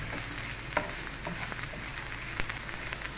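Garlic, black pepper and salt sizzle steadily in a hot pan while being stirred, with a constant fizzing hiss, a couple of clinks from the utensil and no voices.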